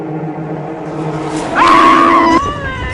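A boy screams in fright in a horror film, one loud, wavering high-pitched shriek rising sharply over a tense, droning background score.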